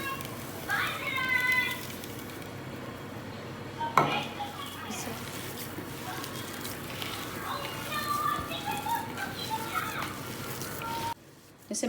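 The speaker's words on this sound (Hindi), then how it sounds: "इसे मैंने अच्छी तरह मिक्स कर लिया।" A spoon works through mashed potato with onion, green chillies, coriander and spices in a bowl, giving soft scraping and stirring with occasional clinks, while children's voices and speech carry in the background.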